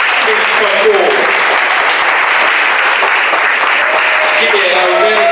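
Sustained audience applause at the Essence of Fatherhood Awards ceremony as Mr. Angel Pia is honored as Man of the Year, a steady, dense wash of clapping filling the hall throughout.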